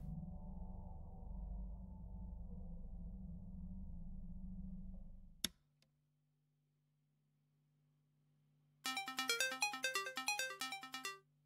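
Phone ringtone in a horror game, a bright melodic electronic ring starting late and repeating in rapid pulses after a low hum and a sharp click.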